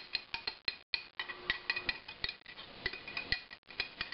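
A metal lid set back onto a home-brew pot of java stout, giving a quick series of close, sharp clinks and taps against the rim, with short pauses between and no talking.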